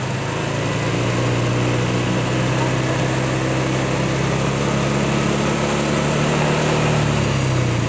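A Honda Vario 125/150 scooter with a sputtering throttle-body fault runs steadily under a gentle, light throttle, giving a continuous close, loud engine drone with a faint rise and fall across the whole stretch.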